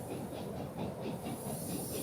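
A branch line train departing in the EEP 15 railway simulator game, a steady rumbling roll with faint rhythmic clickety-clack and hiss, continuous and moderately loud with no talk.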